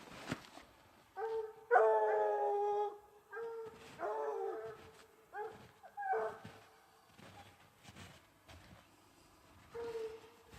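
Hunting dogs bay and yelp while chasing a bobcat in British Columbia, their howls coming in scattered bursts at a moderate distance, with quiet stretches between.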